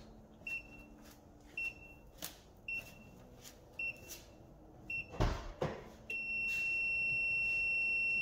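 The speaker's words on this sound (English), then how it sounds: "Hearing the beeps." An Autowit SuperCap 2 jump starter gives a series of short, evenly spaced electronic beeps, a couple of clicks, then a long continuous tone as it gets ready to start a car; no talking.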